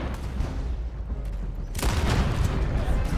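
Gunfire in Red Dead Redemption 2 during a wagon escape from a blocked road, a dense burst of sharp shots and booms that hits hard partway through and carries on loud over constant rumbling game noise.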